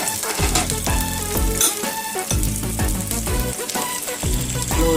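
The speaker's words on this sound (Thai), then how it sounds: "คุณเชียงนี่เรานำไปทอดก่อนนะคะ" Chinese sausage fries in a pan, a steady, close sizzle and crackle of spitting fat that runs on without a break, with no voices over it.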